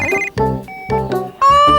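A cartoon telephone rings in short repeated electronic bursts, loud and close, with a brief gap between rings and a higher, stronger final burst, in a Bob the Builder episode dubbed into Polish.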